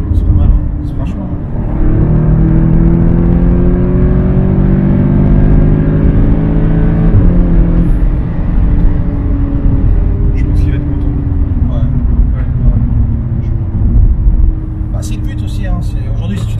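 An Audi S3 8V tuned to stage 2 with 380 hp and a modified exhaust drones steadily from inside the cabin, its engine note climbing and falling through the gears, loud and continuous, with someone talking over it.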